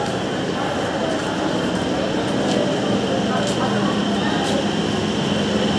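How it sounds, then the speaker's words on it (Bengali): A Namkhana local train stands at a busy station platform, a constant loud rumble and hum filling the scene, with indistinct voices and station bustle mixed in. "আমাদের ট্রেন কিন্তু প্ল্যাটফর্মে দিয়ে দিয়েছে 34720 নামখানা লোকাল"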